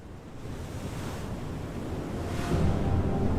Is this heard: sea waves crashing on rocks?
yes